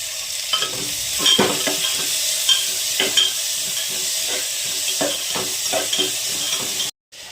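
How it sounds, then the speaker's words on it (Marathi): Onions frying in a pan for a spicy potato curry, a steady loud sizzle broken by repeated scraping stirs of a spatula, close and continuous with no talking, ending in a brief drop to silence. "थोडं कांदा भाजून घ्यायचं थोडंसं."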